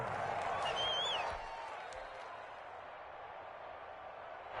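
A football stadium crowd cheers and applauds ahead of a big third down, a broad roar that swells briefly at first, then settles into a quieter, steady background murmur.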